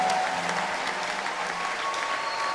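A church congregation claps steadily and loudly in worship for a couple of seconds, with a faint sung tone drifting under the dense applause.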